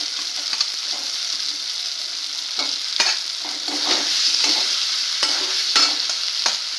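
Fried potatoes stir-fried with spice paste in a pan for a cauliflower dish, a continuous sizzle broken by repeated scraping and clinking stirs of the spatula, close and alone.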